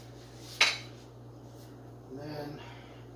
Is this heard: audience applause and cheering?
no